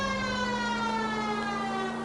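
A police car siren from the detective game L.A. Noire wails steadily and loudly over the low hum of the car engine, with slowly sliding tones and no talking.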